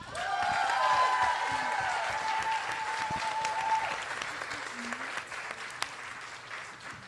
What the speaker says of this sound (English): please give our candidates that showed up a round of applause